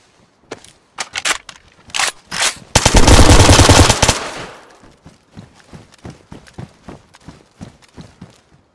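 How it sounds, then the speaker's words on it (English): An AA-12 shotgun fires in the survival game DayZ: loud separate blasts, then a rapid burst lasting about a second, followed by more scattered shots that grow fainter toward the end. "He just blasted me with an AA-12"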